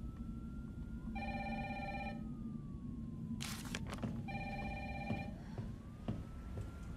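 A telephone rings twice in the Resident Evil 3 remake, two evenly spaced electronic trills over a low droning game ambience with a brief burst of noise between the rings.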